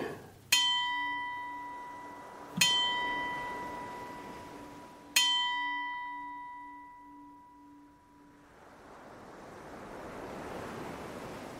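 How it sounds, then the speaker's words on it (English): A ship's bell struck three times, each clang ringing out and slowly fading, over steady surf and wind. "the faint echo of the bell ringing, a ship's bell ringing, tolling"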